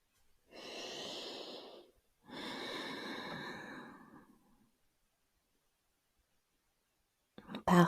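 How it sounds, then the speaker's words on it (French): Two long, slow, audible breaths during a gentle yoga session, each a drawn-out airy inhale or exhale lasting about two seconds, close and steady, followed by quiet and a brief rustle at the end. "On inspire et on expire."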